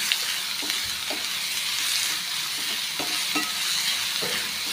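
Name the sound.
onion sautéing in a pan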